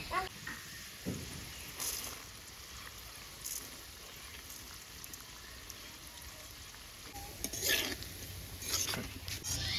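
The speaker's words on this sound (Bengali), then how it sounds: "এখন আলুর সঙ্গে চালটা একসঙ্গে বাজিয়ে নিব" Rice and potatoes frying together in a pan, a soft crackling hiss with occasional scrapes and clinks of a utensil against the pan, fairly faint and close.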